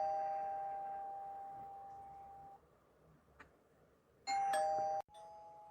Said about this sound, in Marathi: हे बेल वाजून राहिली